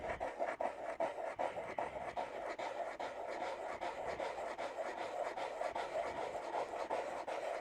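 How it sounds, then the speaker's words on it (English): Steady scratchy rasp of sandpaper working a model airplane wingtip down to the tape, a continuous close rubbing with regular back-and-forth strokes, with no talking. "Keep sanding until you hit the tape."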